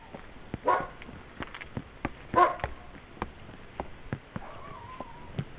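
A dog gives a couple of sharp barks amid sparse clicks and quiet background noise, the calls spaced apart and moderately near, with no talking over them.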